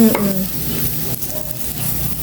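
Onions sautéing in a pan while being stirred, a loud, close and continuous sizzle with the scrape of a utensil moving through them.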